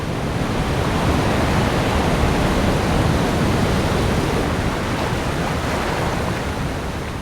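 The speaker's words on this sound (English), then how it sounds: "The violent thrashing of water will continue until rain turns to snow." Swollen Tara river in a canyon, violently thrashing after heavy rain, a loud continuous broadband roar of rushing torrent water with no let-up, steady and close throughout.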